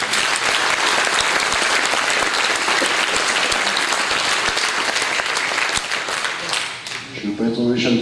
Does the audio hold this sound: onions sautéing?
no